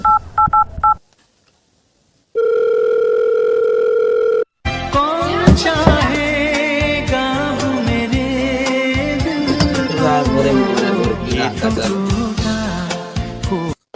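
A telephone handset gives a few short DTMF keypad beeps, followed by a steady dial tone lasting about two seconds, before loud music begins and fills the rest.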